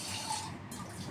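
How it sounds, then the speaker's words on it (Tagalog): Water pours steadily in a continuous, close splashing stream into bread dough being mixed by hand in a kitchen. "Pag kulang yung tubig, dinadagdagan ko guys"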